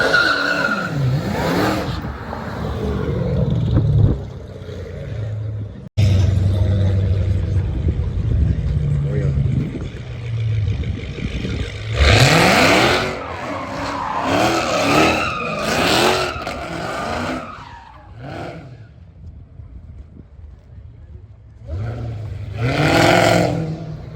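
A car spinning its tires at a car meet, with engine revving rising and falling, tire squeal and skidding in loud surges, and crowd voices talking and shouting throughout.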